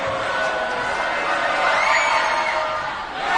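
A home crowd at an Alter Knights versus Badin Rams high school basketball game roars and cheers after a missed free throw, a dense sustained wall of voices swelling midway with whoops.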